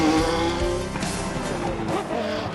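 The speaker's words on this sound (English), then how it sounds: "Just wonderful, the noise and colour of these cars." Historic racing cars, including Jaguars, roar at the Donington circuit, their engines loud and continuous with rising and falling revs and no pause throughout.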